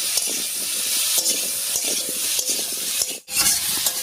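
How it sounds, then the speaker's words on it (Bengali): A spoon stirs diced papaya with salt and turmeric in a pan, giving steady close scraping and a soft sizzle-like hiss that runs continuously with one brief pause near the end, and no talking. "দিয়ে দিচ্ছি স্বাদ মতো লবণ আর হলুদ। এবারে খুব ভালো করে মিশিয়ে নেব।"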